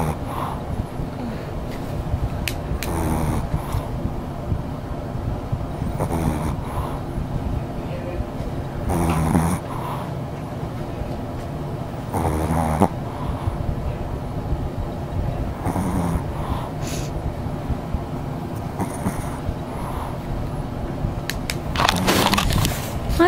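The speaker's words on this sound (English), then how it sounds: "I wish I was sleeping like Buddy" A sleeping dog snoring in rhythmic, rasping breaths that recur every few seconds, close by, while people talk over it.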